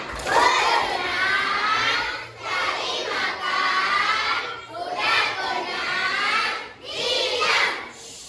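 Schoolchildren in an Indonesian classroom perform a rhythmic clapping chant, their loud, excited shouting voices rising and falling together in several bursts across the whole stretch.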